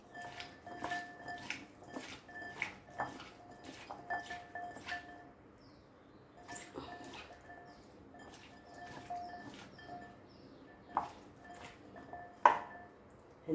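Bitter gourd being mixed with salt and lime juice, heard as quiet, repeated clinks and taps of a spoon against a ringing metal bowl in bursts, with short pauses between them.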